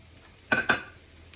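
Chopped tomato goes into a pan of frying karela (bitter gourd) and peanuts, marked by two quick, quiet clinks of a utensil against the pan in close succession.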